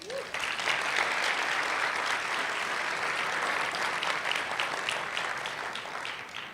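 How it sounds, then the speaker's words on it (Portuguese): Dense, steady applause from a church congregation at a youth service, a broad wash of many hands clapping together that holds evenly for several seconds before easing off, with faint voices rising through it. "Agora dê um aplauso para Jesus."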